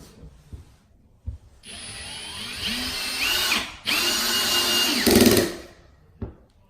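A power drill whirs in bursts, driving screws into HardieBacker cement board with grinding and rising motor pitch, close by, with short pauses between runs.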